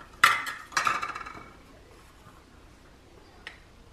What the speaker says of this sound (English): Maybe I'll just use a spoon.